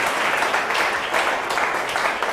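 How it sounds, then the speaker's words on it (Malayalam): Steady applause from an audience at a Malayalam Christian prayer retreat, dense, continuous clapping at close range for a couple of seconds, with no voices over it. "കൈയടിച്ച് കർത്താവിന് നന്ദി പറയാം."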